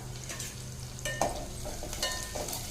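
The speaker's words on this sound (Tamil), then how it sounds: "வெங்காயம் வதங்கட்டுங்க" Curry leaves and small onions sautéing in a pan, a soft close sizzle broken by occasional scraping stir strokes, fairly quiet, no voices.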